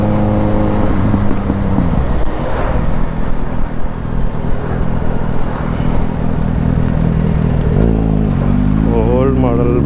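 An old, long-discontinued motorbike revs loudly and close by on a Goa road, its engine droning steadily and then rising in pitch at the end, with people talking over it.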